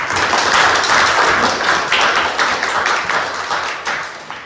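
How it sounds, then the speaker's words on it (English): An audience at a Toastmasters public speaking meeting in Cluj gives a round of applause, a steady, dense patter of many hands clapping for several seconds. "please welcome him with a huge round of applause"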